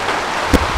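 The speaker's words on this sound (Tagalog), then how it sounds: "napakalakas ng ulan" Heavy rain pours steadily onto a jungle hut, a dense, close hiss with one brief heavier patter of drops, and no voices.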